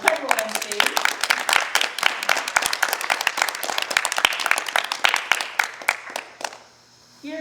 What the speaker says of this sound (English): Let's have a round of applause for our incredible MC.